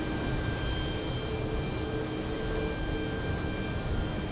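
A heavy jet airliner takes off on runway 13 Right at JFK, a steady, loud engine roar that holds unbroken from start to finish with no voices over it.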